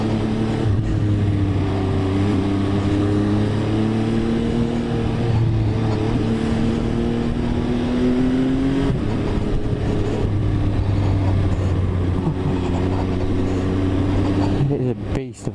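An MV Agusta Dragster 800 motorbike being ridden, its engine droning steadily with rising and falling pitch as it accelerates, close and loud with wind rush, ending in a brief rev.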